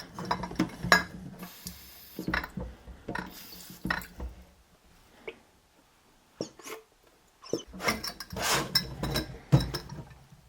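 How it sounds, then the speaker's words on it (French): Glass jars washed by hand with a sponge and dish soap: close, irregular clinks, knocks and scrubbing rubs come in bursts, with quiet gaps between handling moments. "on va d'abord laver les jarres très simplement, éponge liquide vaisselle"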